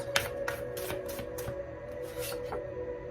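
Tarot cards being shuffled and drawn by hand, a run of soft, papery riffling slaps and rustles repeating in quick bursts at close range, with a steady faint hum underneath.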